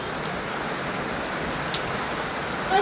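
Steady rain pours down, a dense, close patter of drops on surfaces with no break and no voices.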